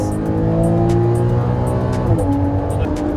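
A Porsche 981 Cayman sports car accelerating at full throttle, its engine note climbing loud and steady, dropping briefly at a gear change before pulling up again, close and continuous with no speech.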